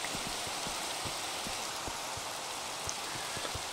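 Rain falls steadily in a hardcore Minecraft game, a dense hiss with scattered close drop ticks throughout, with no voices.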